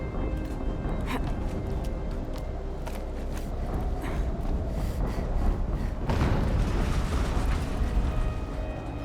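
Explosions in the video game Horizon Zero Dawn make a loud, dense roar of rumbling booms and debris crackle that fills the whole stretch and swells again near the middle.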